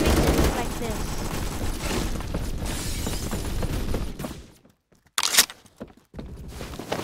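Sniper rifle shots ring out in the online shooter Phantom Forces, loud sharp cracks over continuous battle noise, then a near-silent gap broken by another short burst and clatter.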